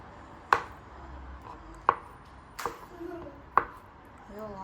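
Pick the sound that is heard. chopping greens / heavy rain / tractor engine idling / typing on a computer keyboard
chopping greens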